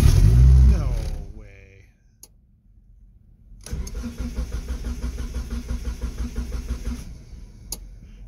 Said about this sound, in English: I'm gonna give the key a whirl here, see what happens